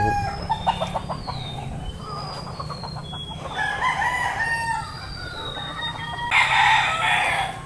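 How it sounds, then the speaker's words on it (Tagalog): Chickens and a rooster in a coop on a backyard poultry lot, with repeated crowing and clucking from several birds, some close and some farther off, and a louder burst of calls near the end. "So ito yung manukan natin"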